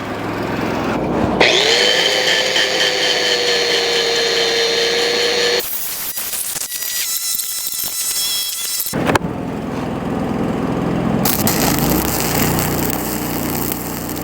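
Steady buzzing hiss of an arc welder laying a cap pass on a cracked excavator bucket, with no talk, briefly interrupted midway by a rougher crackling stretch before the even buzz resumes.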